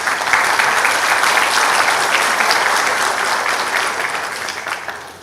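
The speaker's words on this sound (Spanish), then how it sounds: "Pedimos un aplauso también para el ingeniero." Sustained applause from an audience at an engineering forum on seismic risk in buildings, a dense steady clapping throughout that fades slightly toward the end, with no talking over it.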